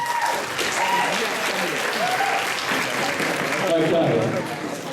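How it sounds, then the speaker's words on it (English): A school audience at a Year 11 leavers assembly applauds steadily throughout, a dense, continuous patter of clapping with voices audible over it. "Can you give a wonderful round of applause to Emily,"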